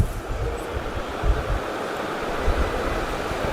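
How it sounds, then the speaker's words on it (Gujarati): Electric fan running right beside a microphone, giving a steady low rumbling whoosh of moving air that stays loud and unbroken throughout. "હવે આપણે પંખો ચાલુ કર્યો છે."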